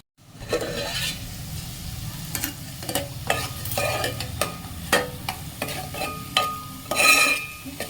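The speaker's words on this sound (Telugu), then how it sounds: "దీన్ని కొంచెంసేపు కుక్ అవడానికి పెట్టేద్దాం." Capsicum cooks in a covered pan, giving a low steady sizzle broken by a series of sharp clinks and scrapes from stirring and utensils against the pan, close and moderately loud.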